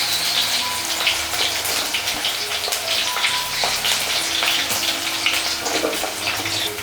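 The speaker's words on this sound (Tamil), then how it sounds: "வெங்காயம் சேர்த்து நல்லா இதை வதக்கிடுங்க" Finely chopped onion sautés in oil for a paneer kulambu, a dense, even hiss and sizzle with faint clinks of stirring throughout, close and continuous.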